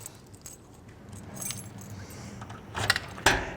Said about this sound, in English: There are a bunch of keys here.